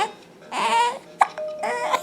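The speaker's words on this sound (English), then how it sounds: "You got the hiccups, huh?" A baby hiccups in a short sharp burst amid soft babbling and fussy vocal sounds, close to the microphone, with no adult talk during the moment.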